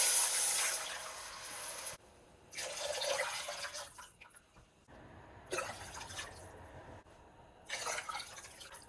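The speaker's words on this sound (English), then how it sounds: "then you're gonna add 5 cups of water" Water pours into a cooking pot in bursts for vegan soul potlikker with mixed greens, a steady splashing stream that stops and restarts several times, fairly close, with no talk.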